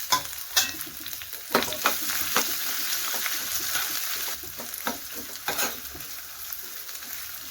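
Crushed green chilli, pepper, cumin and garlic frying in a pan for rasam, a steady hiss of sizzling oil broken by scattered soft stirring scrapes and pops, close and alone.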